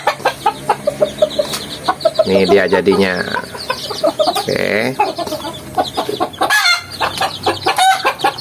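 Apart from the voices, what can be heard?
chickens clucking, berugo (village chicken x wild junglefowl)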